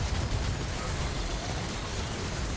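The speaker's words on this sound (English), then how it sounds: "And just damage, explosion, explosion, explosion." Explosions from the Dark Horizon build in Remnant 2 come as a dense, continuous roar of overlapping blasts and crackle, loud and close throughout, with no talk over them.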